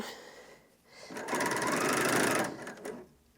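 A Bernina L460 overlocker stitches at high speed in a short, loud, close burst of rapid mechanical whirring that ramps up and then winds down, with quieter handling noises before and after.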